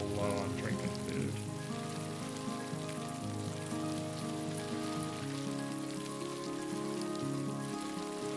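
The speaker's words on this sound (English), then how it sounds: "It says it rains too," Rain falls steadily in the survival video game Havendock, a continuous soft patter spread under sustained musical tones from the game's soundtrack, with no talk.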